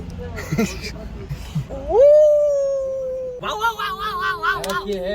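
A man imitates a dog, giving short yelps and whimpers, then a long sustained howl that wavers and falls, ending in broken yipping cries, close and loud.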